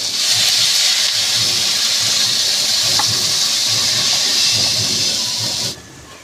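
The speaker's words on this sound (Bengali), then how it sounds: "আমি দিয়ে দিচ্ছি জল" Water poured into a hot pan of frying masala for a thin Bengali bhetki fish curry with yam bursts into a loud, close, steady steam hiss lasting several seconds before dropping away sharply.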